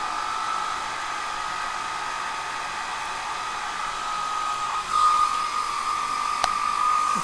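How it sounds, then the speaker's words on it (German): A hair dryer powered by a Bluetti EB70 portable power station blows with a steady, loud whooshing hum, with a faint tonal whine rising slightly near the end. "Na, dann föhn dir die Haare mal."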